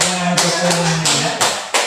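Pupils in a classroom clapping game for focus, a few sharp group claps spaced apart, loud and close, with a voice speaking between them.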